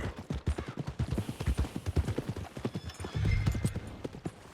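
Rhythmic clip-clop of horse hooves trotting close by in the video game Red Dead Redemption 2, steady and distinct, with a brief snort near the end.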